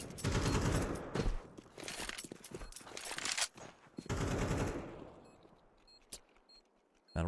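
AK rifle gunfire during a competitive Counter-Strike match, heard as loud, dense bursts of rapid shots broken by short pauses. Several sustained volleys give way to sparser, fainter shots and clicks toward the end.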